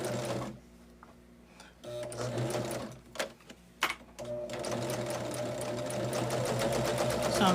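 A sewing machine strip-pieces fabric for a quilted table runner, running in close, steady stretches broken by short pauses and a couple of clicks, then settling into a long continuous run.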